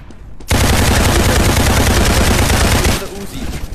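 Uzi fire in a VR shooter game: a continuous loud automatic burst of rapid shots lasting about two and a half seconds, then it cuts off and leaves quieter game ambience.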